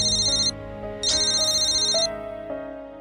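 An electronic phone ringtone plays a repeating melodic chime pattern, clear and close, with no talking.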